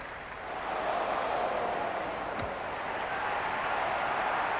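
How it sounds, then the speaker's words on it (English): A dense, steady roar of a large cricket stadium crowd cheering and applauding during an India vs South Africa T20 match swells and holds, distant and continuous like a wash of noise. "Will you listen to that crowd? They are loving this."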